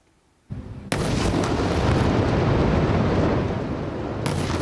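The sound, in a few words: explosion as Israeli military destroys Gaza building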